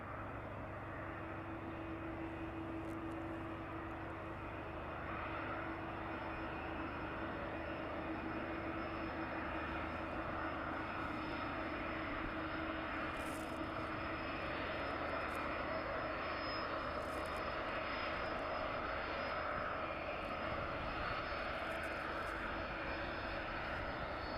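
A passenger aircraft at East Midlands Airport lands and vacates the runway, its engine roar a steady, broad rumble held at constant loudness throughout, with no voices.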